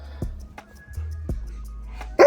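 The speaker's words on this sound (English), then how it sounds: "Why are you barking?" A pet dog at home gives a few sharp, separate barks spaced out over a couple of seconds in a quiet room, ending in a louder yelp.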